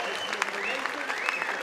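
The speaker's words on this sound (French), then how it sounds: "il y a beaucoup de gens dans la salle qui sont debout pour vous applaudir" Standing audience in a hall at a rugby club's 70th anniversary evening giving applause, continuous dense clapping with a tonal sound and voices mixed in underneath.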